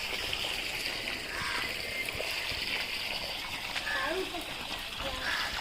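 Water splashes and trickles steadily onto garden plants and flowers while people talk nearby over the continuous wash of the flow.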